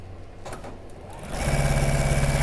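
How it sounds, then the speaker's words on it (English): A sewing machine starts up after a moment of quieter handling noise and then runs steadily, stitching a quarter-inch seam in fabric for a floral cushion cover with a close, even mechanical whir. "I'm going to sew them with a 1/4 inch seam"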